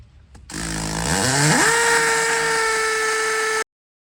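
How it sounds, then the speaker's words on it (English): A powerful drill starts up and whines at a high steady pitch for about three seconds, loud and close, drilling holes in masonry for a dryer vent, then cuts off abruptly. "drill your bottom holes before you drill your top ones"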